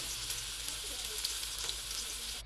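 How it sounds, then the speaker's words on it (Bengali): Okra slices fry in a pan with a constant close sizzle and crackle of hot oil, steady and fairly loud with faint stirring. "খুব ভালো করে ভাজা ভাজা করে নিব"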